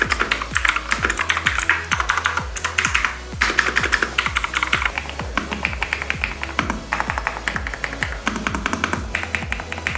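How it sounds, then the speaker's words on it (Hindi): Rapid, steady clacking of an Epomaker Ajazz AK820 Pro mechanical keyboard, keys tapped continuously and close up with a crisp, clicky rhythm. "तो एक छोटा सा सैंपल आप सभी के लिए।"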